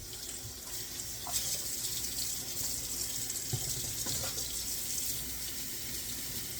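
Tap water runs steadily from a kitchen faucet while flank steak is rinsed under it, a continuous close splashing stream with small bumps from the meat and hands.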